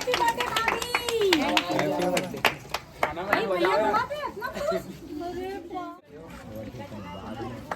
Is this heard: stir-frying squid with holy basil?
no